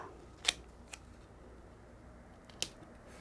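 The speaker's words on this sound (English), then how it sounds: "And we're going to tape the top." Paper envelope flap on an in-the-hoop embroidered tuck card holder being taped down, heard as three short, sharp tape snaps and presses spaced across a quiet background.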